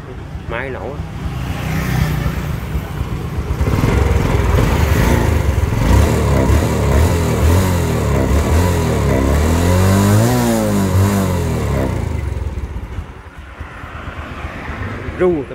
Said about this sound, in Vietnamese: Máy nổ